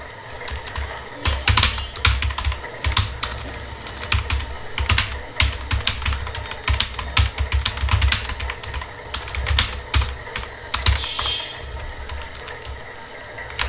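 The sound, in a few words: typing on a computer keyboard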